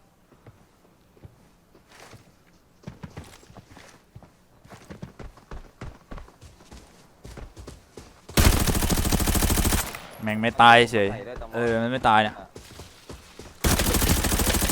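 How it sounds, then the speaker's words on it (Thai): Gunfire in the shooter game Arena Breakout. Scattered single shots and light clicks give way to long, loud, sustained bursts of automatic fire, broken by a person talking in the middle. "เยอะจังวะผมยิงไปเยอะมากแล้วนะ"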